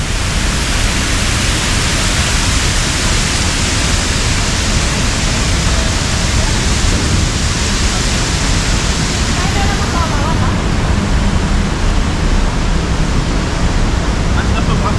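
Water pours steadily through a small part of a water garden fountain in a New York park, a loud, continuous broadband rush that fills the whole stretch without pause.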